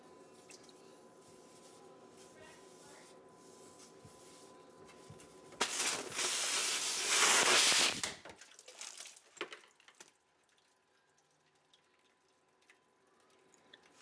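A PEX refrigerator waterline cut with a pipe cutter releases pressurized water in a loud, broad hissing spray that lasts about two seconds, followed by a few scattered drips and squishes over a quiet background hum.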